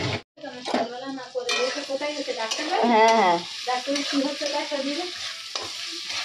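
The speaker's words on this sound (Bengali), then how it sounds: "ভাতটা ভাজা করে নিই" Rice stir-fried with egg in a pan, with loud close scraping and clattering of a spatula over a steady sizzle, broken by brief pauses; a voice speaks briefly.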